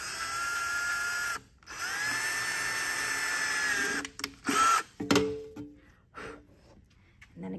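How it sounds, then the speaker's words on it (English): A power drill whines steadily as it bores into a copper handle, running in sustained bursts with brief stops and a change of pitch as the bit bites into the metal, close and loud. "I like to just press a little so that I don't walk the drill"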